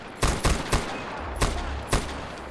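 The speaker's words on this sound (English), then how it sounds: "This is the best gun in the game, by the way, guys. This is a buzzsaw." A buzzsaw machine gun fires in the video game Far Cry 4, with five sharp, loud gunshots spaced unevenly over a low background rumble and no voices.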